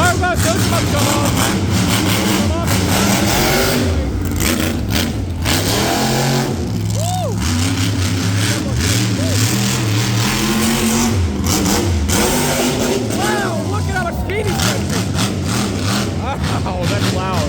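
Monster truck engines roar and rev continuously at a show in Frederick, Maryland, a loud dense rumble that swells and dips throughout, with people talking over it.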